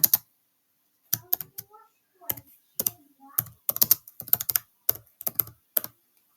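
A chart title is typed on a computer keyboard, crisp close key clicks in short irregular bursts separated by pauses, with faint speech murmured underneath.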